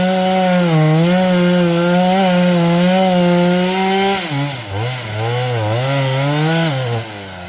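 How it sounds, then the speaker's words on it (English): Chainsaw cutting wood during land clearing, a loud close steady engine drone whose pitch sags and wavers as the chain bites into the wood, then recovers. "Chainsaw."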